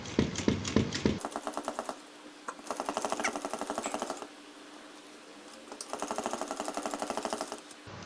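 Sewing machine stitching a kurti collar onto buckram, rapid mechanical chattering in several bursts separated by short pauses, close and fairly loud with no voices.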